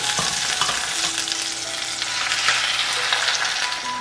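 Shrimp heads, garlic and scallions stir-frying in hot oil with tofu being added, a steady loud sizzle with scraping stirs and a few metallic clinks of a spatula against the wok, no talk.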